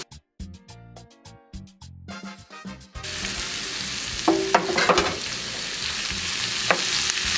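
Shrimp frying with garlic and green chile in a pan, beginning with a few quieter stirring knocks, then a dense, loud sizzle with spatula scrapes that continues to the end.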